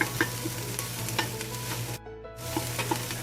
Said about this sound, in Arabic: هنا حطيت بصل اقلبه وحطيت معاه بهارات صحيحة